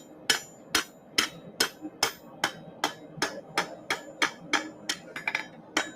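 A hammer strikes a knife blade resting on an anvil at a knifemakers' hammer-in, sharp ringing blows in a steady rhythm of about two per second, close and loud, with a quick flurry near the end.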